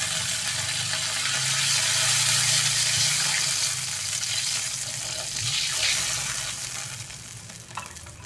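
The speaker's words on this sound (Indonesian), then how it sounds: "Masukkan air." Water pours into a hot cooking pan while making glass noodle soup, a loud continuous hiss and sizzle with bubbling and splashing that slowly settles.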